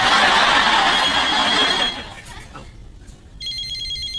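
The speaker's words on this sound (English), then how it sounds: "Mobile phone." A mobile phone rings with a repeating electronic trill that cuts in at the end, after a hiss-like noise and someone talking.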